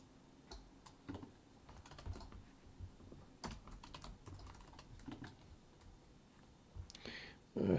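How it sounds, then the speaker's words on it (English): Keys clack on a computer keyboard in scattered, irregular bursts during a live C++ coding session, moderately close, with a louder thump at the very end. "There's my keyboard."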